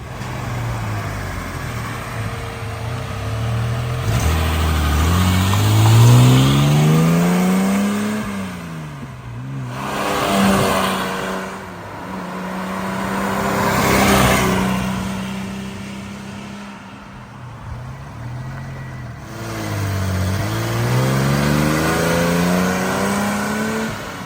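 A 1962 Mercedes-Benz 220 SE Cabriolet roars past several times, engine revving as each pass swells and fades, with the pitch sweeping as it goes by.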